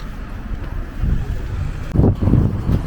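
Breezy seaside wind at Llandudno buffeting the microphone, a steady low rumbling roar that grows stronger and gustier partway through.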